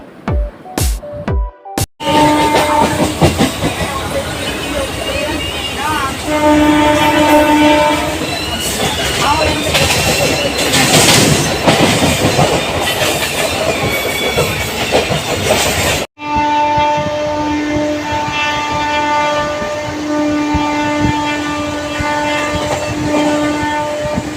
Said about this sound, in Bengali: ফাইনালি উঠে পড়েছি আমরা ট্রেনে।